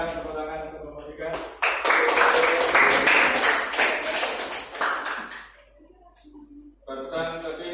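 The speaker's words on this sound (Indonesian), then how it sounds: "Silakan tepuk tangan untuk kelompok 3." Classroom applause for a student group, a burst of many hands clapping that swells for about four seconds, then fades into murmuring voices and light chatter.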